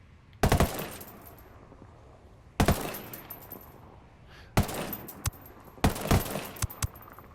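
A SIG556 assault rifle fires in the video game Ghost Recon Wildlands: four separate loud, close bursts of rapid shots, each trailing off briefly before the next.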